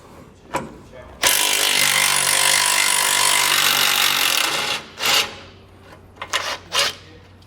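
A power tool spins off the 15 mm tow hook bolts under a 2017 Ford F-150, with one long, loud, steady whirring burst followed by a few short, sharp bursts close by.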